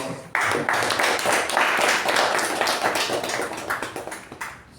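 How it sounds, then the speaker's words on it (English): Audience applause at a Toastmasters meeting, a steady round of clapping from a modest group that holds for several seconds and then thins toward the end. "for that, one more round of applause."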